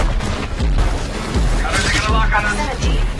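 Rapid bursts of machine-gun fire strike stone pillars in a movie chase scene, loud, close and repeated, with booming impacts under a dense wash of noise.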